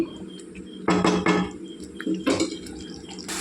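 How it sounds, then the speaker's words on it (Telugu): Metal pot and utensil clatter from stirring a prawn curry and setting a lid on the pot, with a few sharp clanks and scrapes in short bursts against a quiet kitchen background. "కలుపుకొని మూత పెట్టుకొని మళ్ళీ వండుకోవాలండి"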